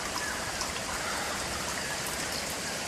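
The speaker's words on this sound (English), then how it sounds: "we've got a weeping hole that the groundwater is flowing out of and into the drain" Groundwater flowing out of a weeping hole into a backyard drain during a rain flood, a steady close trickling, splashing rush that stays even and continuous throughout, with no talking.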